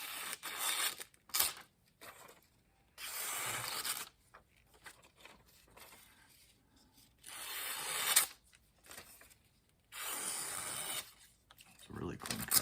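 Paper is sliced with a MagnaCut steel knife, giving bursts of rough rasping strokes separated by pauses, loud and close.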